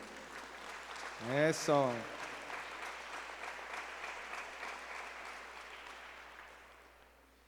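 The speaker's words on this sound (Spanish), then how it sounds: "le da aplausos a usted como si estuviera viendo jugar a la América" A church congregation applauds steadily throughout, a dense wash of clapping from a sizeable crowd that fades toward the end, while someone speaks briefly over it near the start.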